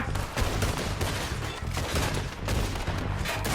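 Dense, continuous gunfire from a shooting video game, with rapid overlapping shots and bursts that stay loud and near throughout, and no voices over them.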